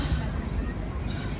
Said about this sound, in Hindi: इस वक्त ट्रेन पहुंची है कराची